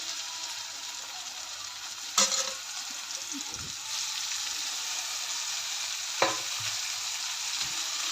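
Spinach and peanuts stir-fry in a hot pan with garlic, giving a steady close sizzle broken by a couple of sharp clatters as the greens are tipped in and stirred, with no talking.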